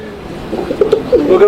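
Pigeons coo at a pigeon farm in Mirpur, Dhaka, a few soft, close, throaty murmurs rising and falling in short bursts.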